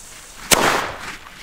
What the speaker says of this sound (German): Dann schnappen wir uns jetzt als nächstes mal hier so einen kleinen Knaller. Ich glaube, das müsste einer von Pyroland sein, von den Elgato-Knallern.